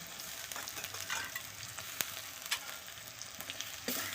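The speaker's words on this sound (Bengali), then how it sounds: "আদা বাটা দিয়েও সেই সেম নাড়িয়ে নিব" Meat being stirred with ginger paste in a pot over a wood-fired clay stove, with a soft steady sizzle and frying hiss broken by occasional scraping clicks of the spoon.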